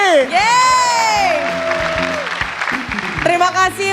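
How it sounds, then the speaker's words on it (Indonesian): A studio audience for the comedian Kang Didi at a stand-up comedy show applauds in a dense wash of clapping, while a host's voice calls out loudly over it. "Tepuk tangan sekali lagi buat Kang Didi."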